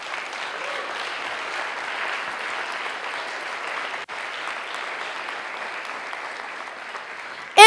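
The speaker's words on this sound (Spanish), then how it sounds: "Dale un fuerte aplauso al Rey" Steady applause fills a church service after a call to clap for the King during an Easter-themed sermon, even and sustained for several seconds with a brief dip midway, no voices over it.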